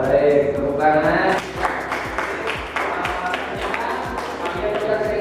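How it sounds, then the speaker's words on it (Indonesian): A classroom breaks into applause after a teacher's prompt: a quick run of roughly even claps over several seconds, moderately close, following a loud opening stretch of voice and tone. "tepuk tangan"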